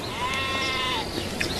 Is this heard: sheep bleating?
yes